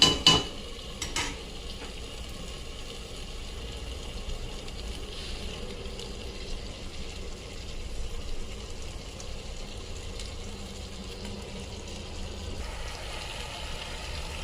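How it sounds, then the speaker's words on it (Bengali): Mutton pieces fry and get stirred in a spiced masala for mutton kosha, giving a steady, moderate sizzle with soft scraping that runs continuously and stays fairly even throughout. "মাংসগুলো সব দিয়ে দিয়েছি, নাড়তে হবে।"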